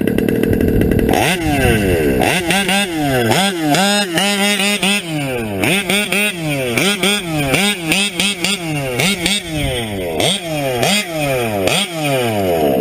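A modded TLR 5B reed engine idles up close, loud and buzzy, with a rough, uneven burble that rises and falls in quick, repeating pulses.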